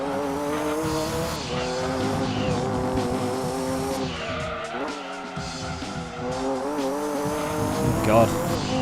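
A GT1 spec race car in the Gran Turismo 2 video game drones loudly through corners, its engine note rising and dipping while tires squeal and skid repeatedly, with someone talking over the game sound.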